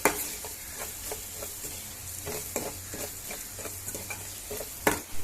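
Cumin powder and masala spices fry in a pan over a low flame while being stirred, giving a steady soft sizzle with repeated scraping strokes and a sharper clatter near the end, no voices.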